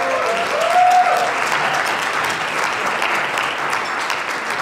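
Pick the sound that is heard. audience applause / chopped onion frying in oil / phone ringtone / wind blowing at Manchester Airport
audience applause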